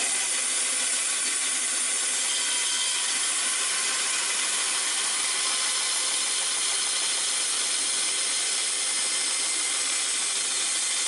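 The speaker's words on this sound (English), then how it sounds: "we can slide this under the bandsaw blades pretty easily" A bandsaw cuts through tough rosewood and desert ironwood for a knife grip, giving a steady, loud, hissing rasp that runs without a break and with no voices.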